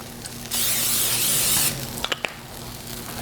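A short hissing burst of cooking spray into a pan lasting about a second, then a few quick clicks and light clatter nearby.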